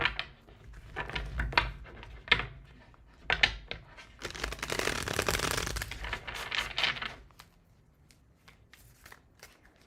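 Tarot cards are shuffled close up: a string of quick riffling flicks and taps, then a longer, denser ruffle in the middle before it thins out to sparse card snaps.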